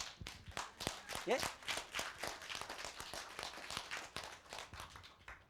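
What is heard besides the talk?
audience clapping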